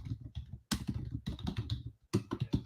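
Close-up typing on a computer keyboard: bursts of quick, crisp key clicks in an irregular rhythm, with a short pause midway and at the end, fairly loud and with no voices.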